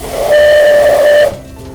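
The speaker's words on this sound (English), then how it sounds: "this is the whistle. The whistle works when I pull this handle." A single loud, steady steam whistle blast from a miniature steam locomotive, lasting about a second, with a breathy hiss around it, then cutting off abruptly.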